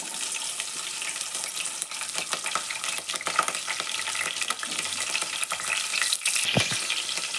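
Mustard seeds, cumin and chopped green chilies frying in hot oil, a dense steady crackle with sharp popping bursts and occasional stirring clatter, no one speaking.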